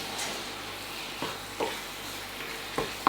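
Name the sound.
stirring almond chicken korma paste in a pan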